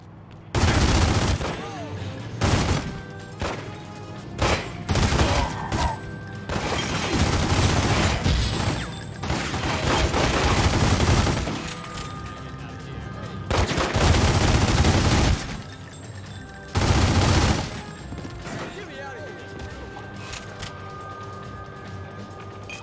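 Repeated bursts of gunfire, including rapid fusillades and machine-gun fire, erupt in The Godfather video game. The loud volleys come in several clusters and carry across most of the stretch, mixed with game speech.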